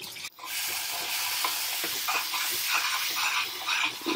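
Onions fry in hot oil in a pan with a steady, loud sizzle while a spoon scrapes and stirs them in repeated soft strokes, with no talk over it.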